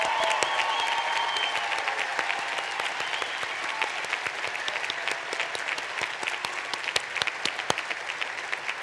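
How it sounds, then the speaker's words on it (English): Steady applause from a large audience at the Reed College commencement, a broad wash of clapping with sharp individual claps standing out, fairly distant and sustained throughout. "Applause for the truly extraordinary class of 2024."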